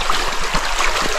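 A clear creek swollen by days of rain flows steadily, a close, continuous rushing and trickling wash of water with no voices.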